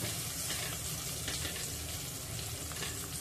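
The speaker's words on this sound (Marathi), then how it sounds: "तर आता लसूण परतून झालाय, मिरची सुद्धा थोडीशी परतली आहे।" Garlic and green chilli fry in a pan for a baby kingfish curry, a dense, even sizzle that holds steady and close throughout with no talk.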